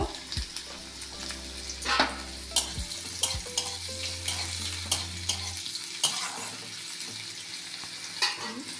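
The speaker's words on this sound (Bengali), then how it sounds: "এবার পেঁয়াজ কুচি, ক্যাপসিকাম কুচি এগুলো সবই দিয়ে দেব, দিয়ে এটাকে আমি একটু হালকা ফ্রাই করে নেব" Chopped carrot, onion and capsicum with ginger and green chilli lightly fried for veg Manchurian, with repeated spatula scrapes and knocks over a steady sizzle, close up, with a low hum in the first half.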